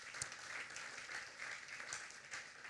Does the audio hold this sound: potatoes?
no